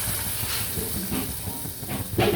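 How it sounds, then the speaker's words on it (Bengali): Lentil fritters (dal bora) fry in oil in a village kitchen with a dense, continuous sizzling hiss. A few soft bursts rise above it. "ডালের বড়া ভাজি"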